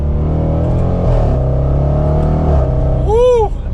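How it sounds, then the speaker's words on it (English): A 2020 Range Rover Velar SV Autobiography SUV in sport mode, held in second gear with the paddle shifters, gives a loud, close, deep sport-exhaust rumble that swells, then rises sharply in pitch as it accelerates near the end. "that exhaust automatically goes into the sport exhaust as well"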